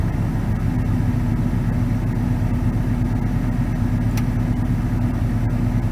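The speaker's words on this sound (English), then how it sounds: "I'm going to rev up the engine." A car engine runs under the hood during an auto air-conditioning repair test, giving a loud, steady, close drone that holds even throughout.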